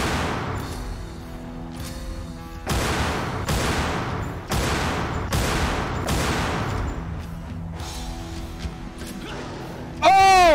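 Magnum pistol fire in a Resident Evil 4 mod video game: a series of loud, heavy gunshots, about six or seven evenly spaced blasts, each ringing out with a long decaying tail, followed by a brief whooshing effect at the end.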